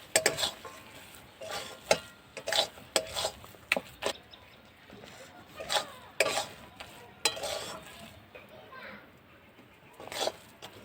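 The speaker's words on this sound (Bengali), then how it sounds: "গুঁড়ো দুধটা আমি দিয়ে দেবো, অল্প অল্প করে দিয়ে মিশিয়ে নেব" A spoon scrapes and stirs a thickening mixture of rice and powdered milk in a pan for a sweet, giving irregular soft knocks and scrapes close by while someone talks over it.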